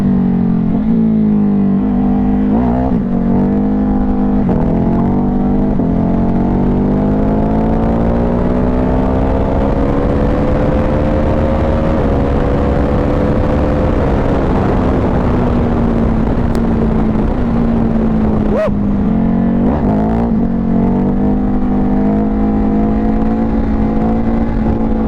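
Ducati Hypermotard 950 SP motorcycle engine revving on a ride, loud and close, its pitch climbing and falling through gear changes with a steady droning roar throughout.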